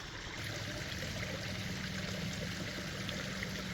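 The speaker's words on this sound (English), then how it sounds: "That is some filthy water coming up out of there though." Filthy, dirt-laden water rolls out and spills over an edge, a constant rushing trickle like a small stream running steadily without a break.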